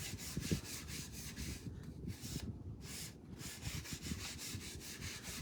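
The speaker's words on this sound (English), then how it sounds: "I'm just going to rub it on, just a light rub, just to cover that surface" Protective paste wax rubbed onto a wooden block with light, rhythmic back-and-forth strokes, a soft close-up scuffing that repeats steadily and stays fairly quiet.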